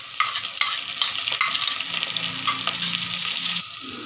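Garlic-ginger paste sizzles in a pan with onions as it is stirred, a steady crackling hiss with spoon scrapes, close and alone.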